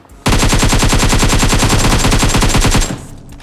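Sustained rapid automatic gunfire from PUBG Mobile, a video game, a loud continuous burst of rounds in quick regular rhythm lasting nearly three seconds before cutting off to a quieter tail.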